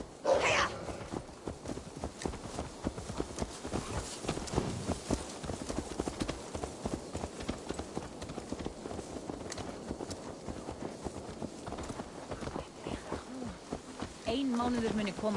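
Horse hooves clip-clopping in Assassin's Creed Valhalla, a steady rhythmic walking gait close by, with speech and game sounds mixed in at moments.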